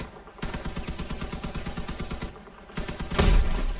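Rapid automatic gunfire from a vehicle weapon in Crossout strikes a generator mounted on top, two sustained bursts of evenly spaced shots separated by a brief pause, ending in a heavier impact boom.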